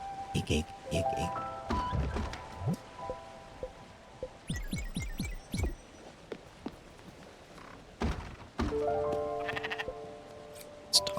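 Sheep in the video game Spiritfarer bleat in a string of short, wavering calls, mixed with game chimes, thuds and footstep-like effects.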